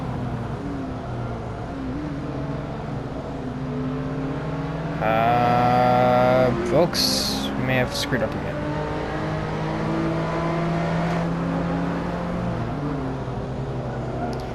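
Race car engine in the Hot Wheels video game, a steady droning roar that rises in a loud revving burst partway through, then settles back into a continuous hum, with someone talking over it.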